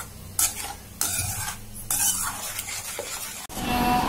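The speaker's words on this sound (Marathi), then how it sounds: "छानपैकी मिक्स करून घेऊया" Thick tamarind chutney with Kashmiri red chilli powder is stirred in a pan, with a series of loud, close scraping strokes and a faint sizzle underneath.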